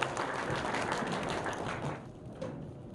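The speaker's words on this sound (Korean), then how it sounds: "큰 박수 부탁드리겠습니다" Audience at a residents' association general meeting applauds, a dense burst of clapping that fades toward the end before a few scattered claps, heard at moderate distance.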